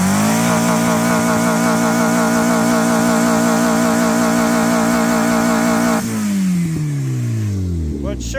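A Suzuki car engine revs hard and steadily for about six seconds while powder is sucked down its intake, then the revs drop and the engine winds down.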